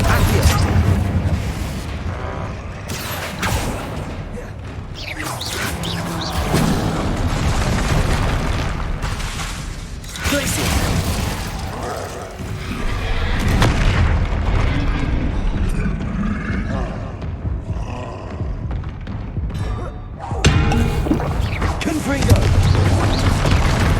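Confringo fire spells explode repeatedly in Hogwarts Legacy combat, a long run of booming blasts and crackling bursts layered over dense battle noise and occasional voices.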